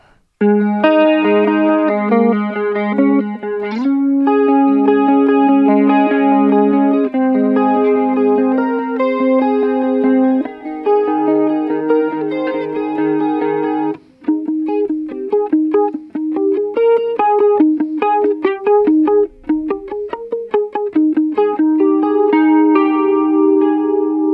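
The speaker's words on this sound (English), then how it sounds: "it's just the legendary, 80s chorus pedal of all time" Electric guitar played through an 80s-style chorus pedal in CE1 mode, with a shimmering, warbling tone on sustained chords that give way to quicker picked notes, loud and close throughout.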